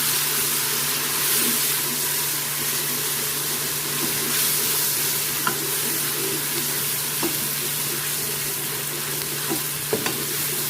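Ginger garlic paste being stirred in a hot frying pan: a constant frying sizzle with a few light scrapes and taps of the spoon, no voices.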